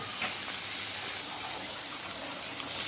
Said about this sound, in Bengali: একটু জল দিয়ে দিতে হবে ভালো করে মিশ্রণটি মিশাতে হবে